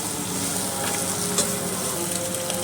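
Onions frying and being stirred in a pan for a brinjal, potato and fish curry, a dense continuous hiss of sizzling with soft stirring scrapes, close and steady throughout.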